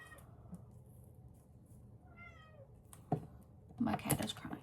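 A house cat cries out in a few drawn-out meows, moderately close, followed by louder clattering handling noises near the end.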